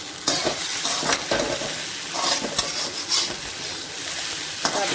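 Okra (ladies finger) sautéing in a pan with salt, a constant close sizzle broken by regular scraping stirs of a spoon against the metal.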